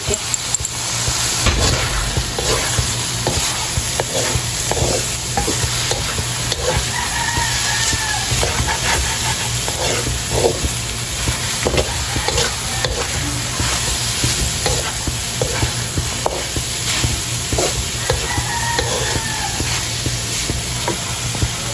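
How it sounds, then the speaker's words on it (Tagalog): Bitter gourd and egg stir-fry sizzling steadily in a pan, with a spatula scraping and tossing throughout. A rooster crows in the distance behind the constant frying. "niluluto ko na po itong ampalaya. Nalagyan ko na po ng itlog."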